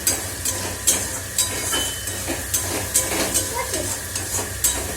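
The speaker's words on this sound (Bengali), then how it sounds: "এই যে মশলাটা ভাজা ভাজা হয়ে গেছে" Spices frying in a pan, a steady sizzle broken by rhythmic scraping strokes of stirring, close and moderately loud with no talk.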